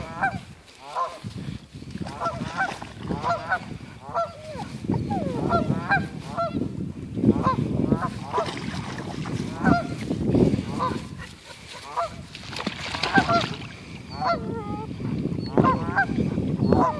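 Loud, nearby goose honks come in a rapid, uneven series, sometimes overlapping, over a steady low background rumble that never drops away.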